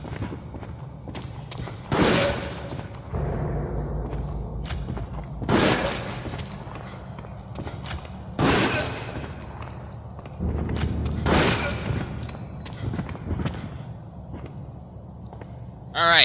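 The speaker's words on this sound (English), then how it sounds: "I'm going to test this regular handgun with Kevin's Take Pot shot" A regular handgun fires at zombies in a video game, four loud booming shots spaced a few seconds apart over a low, steady ambient background.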